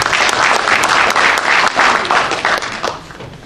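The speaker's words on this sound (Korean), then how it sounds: "큰 박수로 맞아주십시오." An audience at a book launch gives warm, sustained applause to welcome a professor invited to review the book, a loud, dense clapping that stays steady and then begins to thin out toward the end.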